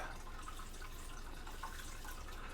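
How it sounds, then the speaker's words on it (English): Water gently running and trickling in Pilot's tank in the video game Danganronpa Lapse, a steady, soft, continuous wash with faint drip-like flickers and no voices. "the sound of Pilot's tank water"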